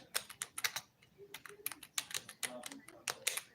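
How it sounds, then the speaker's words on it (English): Rapid, uneven clicks of fingers typing on a computer keyboard, fairly close and moderately loud, in short bursts with brief pauses, with a faint low murmur underneath. "I'm just going to simply type in Wendy Williams."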